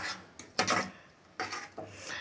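A spoon scrapes and stirs inside a pot in a few short bursts, close and fairly soft, with brief pauses between strokes.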